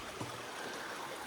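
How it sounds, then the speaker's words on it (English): Sassafras Creek in the Dandenong Ranges forest flowing below a slippery footbridge, a soft, steady trickle and burble of water heard faintly from above. "That's Sassafras Creek down there."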